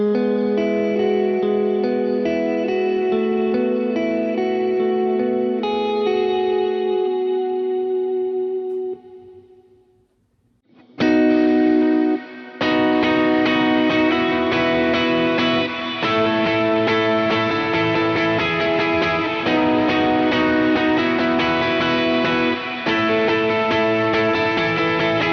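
Electric guitar chords for worship music ring out through bright reverb and delay, with the notes sustaining and fading into a long wash before a short silence, then louder, fuller strummed chords return with thick echoing tails.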